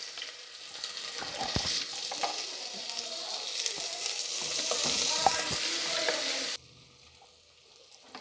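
Finely chopped onions and bay leaves hit hot oil for a mutton curry, a loud close sizzle with stirring scrapes that holds steady and then drops suddenly to quiet near the end.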